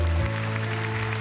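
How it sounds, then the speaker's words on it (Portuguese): Church congregation applauding in a sanctuary, a short burst of clapping over a sustained organ or keyboard tone that keeps sounding beneath it. "Dá uma salva de palmas para esse povo."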